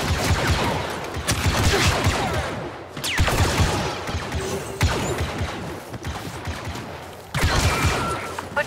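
Rapid blaster fire in a Star Wars Battlefront 2 firefight against an Imperial patrol on Yavin 4, dense bursts of shots rattling continuously at close range with brief pauses between volleys.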